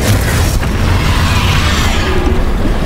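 A loud, sustained blast from the Confringo spell in Hogwarts Legacy, a dense booming roar that fills the whole clip with rumbling low end and a sharp burst near the start.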